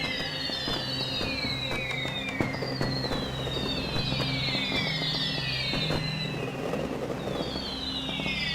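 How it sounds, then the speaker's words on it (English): Fireworks going off in the video game Soulmask, a steady run of whistling rockets and crackling bursts that rise again and again over a low rumbling backdrop, loud and continuous with no talk. "Fireworks at the beginning itself."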